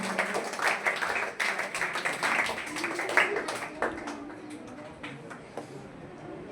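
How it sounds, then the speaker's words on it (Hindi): Students at a coaching class result announcement clap in a loose burst, fairly close and moderately loud, thinning out into scattered claps after a few seconds. "जोरदार तालियां"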